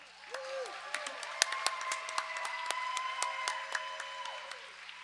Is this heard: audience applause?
yes